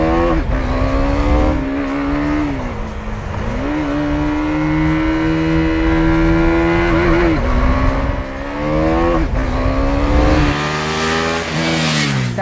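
KTM Duke 390 motorcycle being ridden, its single-cylinder engine droning loudly and close with rising and falling revs through gear changes, steady and alone.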